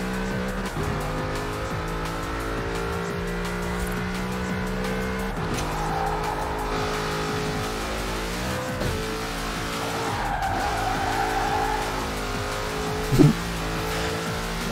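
Ford Transit van driven in the video game Forza Horizon 4, a steady droning engine with shifting revs and squealing tires as it skids through corners, continuous and close with no talking.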